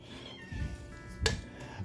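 A cat meows in a kitchen while pasta carbonara is being made, a few short faint cries followed by a brief clatter of dishes, heard close by in a quiet room.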